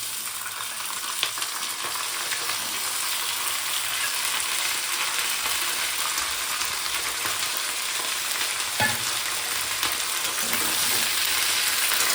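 Bottle gourd leaves and potatoes sizzle steadily while they are stirred and fried in a pan, a continuous close hiss with a few soft scraping touches and no talk.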